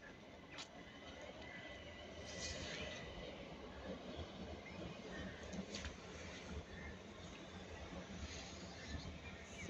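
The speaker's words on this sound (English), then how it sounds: "We have another Southern service bound for Victoria leaving." A Southern passenger train departing Clapham Junction station rumbles steadily past at moderate distance, with a broad continuous roar and occasional faint wheel squeals, no talking.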